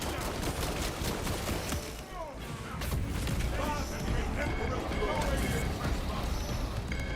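Gunfire and explosions from a Total War Warhammer 40,000 trailer rattle in fast bursts with deep booms, loud and continuous, while people talk over the battle noise.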